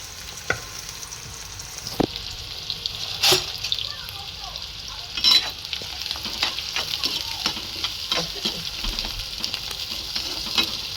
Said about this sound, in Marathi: आपण आता कांदा टाकूया यासोबत थोडासा कडीपत्ता आणि हा गुलाबी होईपर्यंत चांगला तळून घेऊया